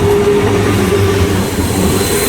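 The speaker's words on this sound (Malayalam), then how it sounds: "ആ ട്രെയിനാണ് ഇപ്പോൾ തിരിച്ചു പോകുന്നത്" A train pulling away from a station in Norway, heard as a steady, fairly loud rumble with a low mechanical hum throughout, no voices.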